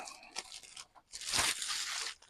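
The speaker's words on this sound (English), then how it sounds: "Here's another plastic bag." Plastic bag being handled up close, with short crinkles followed by a louder, longer burst of rustling and crumpling, no voices.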